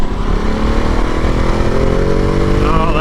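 A Ducati Multistrada Enduro motorcycle engine drones close by while riding, its pitch climbing steadily as it pulls through a gear.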